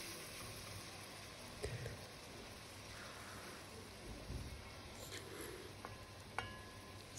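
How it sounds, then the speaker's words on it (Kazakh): Tomato, bell pepper and onion fry in a pan with a steady, fairly quiet sizzle that crackles evenly throughout, broken by a few soft knocks and stirring sounds. "Әрқайсысын 5 минуттан қуырып алып отыратын боламыз."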